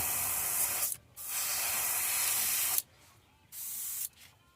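An airbrush spraying paint hisses in three sustained bursts, separated by brief pauses, close and fairly loud.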